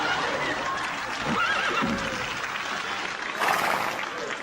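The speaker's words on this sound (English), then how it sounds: "one of the horses followed me home." A horse neighing as a comedy sound effect, a rising, wavering whinny near the middle, followed by a burst of crowd noise resembling applause or laughter, over steady background murmur.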